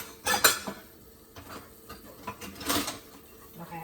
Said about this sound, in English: I just can't dig through this drawer.